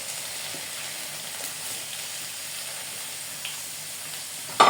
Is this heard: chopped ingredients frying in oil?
yes